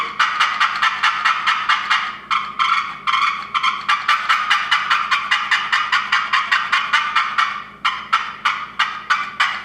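Rapid, continuous run of sharp, raspy yelps from a turkey call, higher-pitched and loud, pulsing in quick bursts with only brief pauses.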